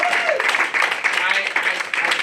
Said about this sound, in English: a round of applause for Efrat and Chef Lee and all that